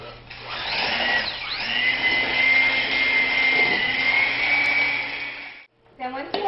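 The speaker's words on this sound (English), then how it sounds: "take those ingredients to the mixer on high and keep them together until they're mixed" An electric mixer running on high while mixing cookie ingredients gives a steady, loud whirring drone with a sustained pitch, then cuts out briefly before restarting for a moment at the end.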